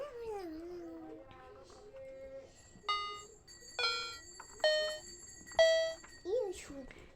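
A new colourful battery-powered toy plays a short series of bright ringing chime tones, each one sharp and ringing out, after a person speaks at the start.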